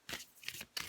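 Tarot cards shuffled and drawn by hand, three quick papery riffling bursts close up in a quiet room.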